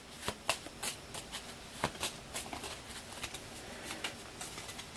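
A deck of cards for the board game Undaunted 2200: Callisto is shuffled off to one side, giving a run of soft riffling flutters and taps at an uneven rhythm, fairly quiet and close.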